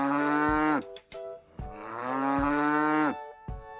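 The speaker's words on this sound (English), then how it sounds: "It's a cow." A cow moos loudly and close in two long, drawn-out lowing calls, each rich and sustained with a brief break between them, with no talk over the sound.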